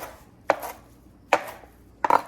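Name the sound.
knife chopping cilantro on cutting board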